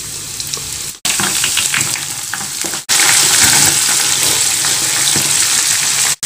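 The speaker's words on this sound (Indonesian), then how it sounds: "Minyaknya sudah panas, kita goreng sampai garing ya." Rolled fine noodles deep-frying in hot oil, a loud continuous close sizzle and bubbling crackle, broken by two brief cuts, with no talk over it.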